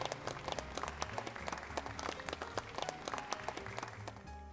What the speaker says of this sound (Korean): 박수를 한번 보내주시기 바랍니다